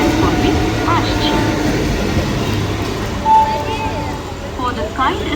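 A train pulls into a platform at Ranaghat Junction at night, a continuous rumbling roll with faint squeals and clatter under a public-address announcement, steady and fairly loud throughout.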